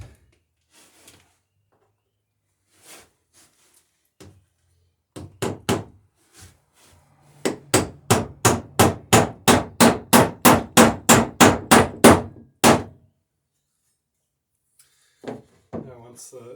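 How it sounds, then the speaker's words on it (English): A hammer drives a nail through the bottom board of a cruising dinghy into a wooden cleat, starting with a few scattered taps, then a steady run of about fifteen sharp, evenly spaced blows, close and loud. "I want to be a little bit careful putting this first nail on each cleat that I don't move the cleat"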